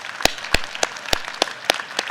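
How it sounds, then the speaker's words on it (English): Sharp, evenly spaced claps ring out at an agricultural innovation challenge stage event, about eight distinct hand claps in a steady rhythm, moderately loud and close, like a thin round of applause with no talk. "Let's give them another round of applause."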